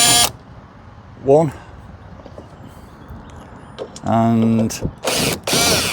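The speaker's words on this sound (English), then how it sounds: "I can pop it into my drill driver and use this." A drill driver zips a bolt out of a Ford Ranger tail light in short whirring bursts with ratchet-like clicks, close and loud, while someone talks between the bursts.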